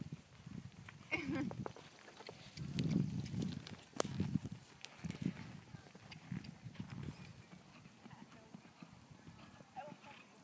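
Horse hooves clip-clop at a slow walking pace, fairly faint, under a conversation between people.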